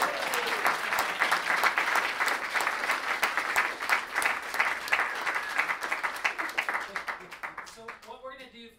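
Sustained applause from a conference audience at a permaculture gathering, steady dense clapping filling the room before fading out, with a voice starting to speak at the end.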